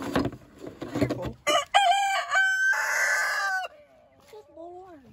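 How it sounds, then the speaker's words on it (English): Rooster crowing once nearby, a loud drawn-out call that falls off at the end, after some clucking and a short voice at the start. "And this rooster right here is one of the breast roosters that we had."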